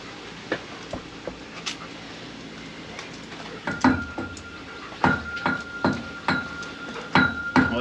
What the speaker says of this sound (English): Let me punch a hole in this for that bolt.